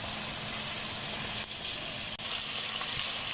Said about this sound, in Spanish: ya nuestra carne ya se va sellando